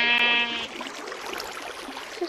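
A single in-game sheep in Eaglercraft, a browser version of Minecraft, bleats loudly at the start, a wavering nasal call, then fades into soft background noise and rustling.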